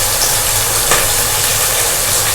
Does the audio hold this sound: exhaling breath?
no